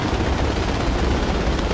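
Steady, loud helicopter rotor and engine roar in the video game Project Reality, continuous and unbroken throughout.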